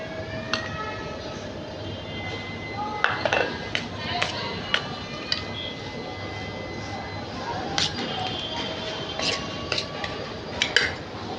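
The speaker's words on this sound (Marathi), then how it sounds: "आता हे सगळं मिक्स करायचं मसाला अजून मिरची पाहिजे याच्यात" A spoon scrapes and clinks against a bowl while mango and bhokar pickle are mixed with masala, with irregular sharp taps and scrapes over a low steady background.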